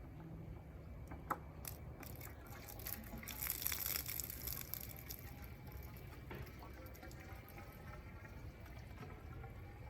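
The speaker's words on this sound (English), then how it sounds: "So I'm going to attempt to do that here by pouring water." Water pours steadily into a turbidity tube for water-quality testing, a continuous close splashing and gurgling wash with a brief louder surge partway through.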